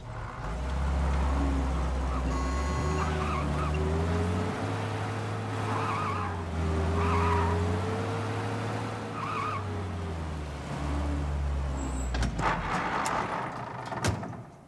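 Cars in the Mafia Definitive Edition video game drive with a steady engine drone while tires skid and squeal at intervals, loud and continuous throughout, with a burst of clatter near the end.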